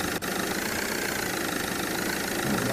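A car engine idles steadily in a Roblox military escape obby game, a constant mid-low rumble with no one talking.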